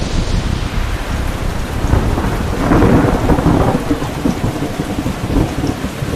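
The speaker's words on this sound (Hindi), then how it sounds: "और फिर ऐसा तेज तूफान आया कि बिजली चली गई।" A fierce thunderstorm roars at full strength, heavy rain pouring steadily while deep thunder rumbles and swells midway, loud and enveloping with no voices.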